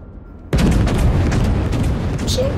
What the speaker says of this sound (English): Most of those shells landed right around him, so my aim is okay.